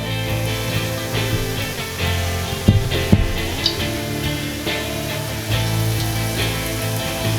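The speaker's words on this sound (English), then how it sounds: "Now remember they've been cooked, so all you want is that batter to cook." Battered potato cakes, already cooked, fry steadily in hot oil with a continuous close sizzle and a few louder crackles near the middle.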